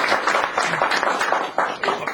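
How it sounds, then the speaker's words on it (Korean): An audience claps at a graduation ceremony for an executive speech and negotiation course, a brisk scattered round of applause in irregular bursts, moderately loud and close. "박수 한번 보내주세요."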